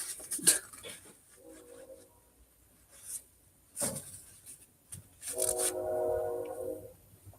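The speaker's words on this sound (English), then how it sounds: "Another train." A train passes at a distance outdoors during a drivetrain repair, its horn sounding as a faint, sustained tone near the end, with brief clanks before it.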